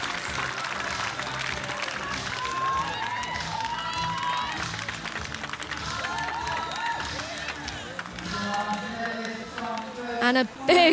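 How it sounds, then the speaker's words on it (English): Spectators at a para dressage team world championship clap and cheer in a sustained crowd roar that swells toward the end, with a commentator talking over it throughout. "Big cheers from Holland."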